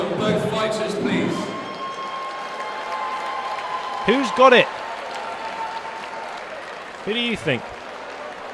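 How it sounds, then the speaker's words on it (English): Crowd applause for two boxers at a boxing event fills the room as a steady wash behind a voice at the start, with a couple of brief whooping cheers rising over it. "Ladies and gentlemen, round of applause for both fighters, please."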